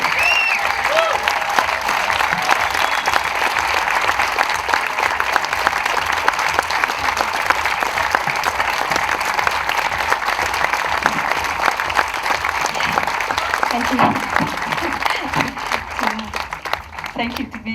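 Sustained applause from an audience at a talk at Boom Festival 2014, a thick steady wash of clapping that runs for the full stretch and stays loud and close, with a few voices briefly audible near the end.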